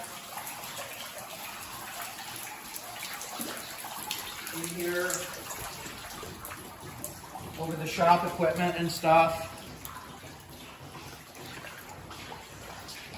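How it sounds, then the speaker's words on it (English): Flood water pours down an indoor stairwell into a shop equipment area as a steady, broadband rushing that runs the whole time, with someone talking close by over it. "Water very deep here coming down the stairwell."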